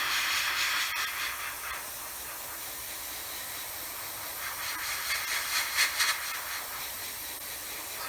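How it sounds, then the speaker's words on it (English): Spray paint hisses steadily from a can nearby while painting a 1/48 scale Tamiya F4F-4 model plane, a continuous airy spray with slight pulses in intensity, no voices. "spray some more of this"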